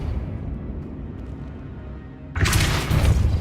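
Depulso force spell cast in the Hogwarts Legacy video game, a sudden loud burst of broadband whoosh and rumble that strikes after a quieter low ambient bed and holds to the end.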